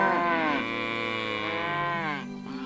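Cattle moo in a medieval farming game, one long, loud drawn-out lowing call held for about two seconds, then a second shorter moo starting right after, heard close by with no talking.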